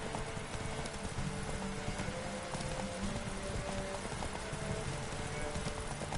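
The horse Roach plods along in The Witcher 3 video game, a steady run of hoof clip-clops over a soft rain-like background, moderately loud and without speech.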